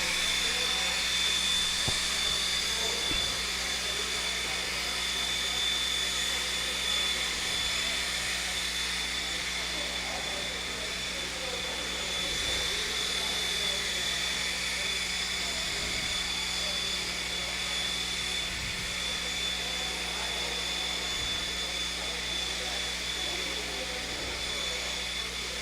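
Radio-controlled off-road cars race on an outdoor dirt track, their small engines whining steadily at a distance with faint intermittent thumps, while people talk nearby.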